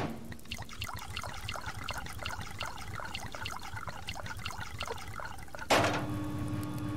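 Water being refilled in the survival game Subsistence: a steady trickling, splashing flow with regular pulsing, then a sharper burst of louder running water near the end, no talk.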